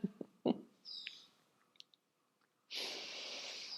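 A bird calls outdoors in a few short, separate chirps and whistles against quiet, with a brief breathy rush near the end; no one speaks.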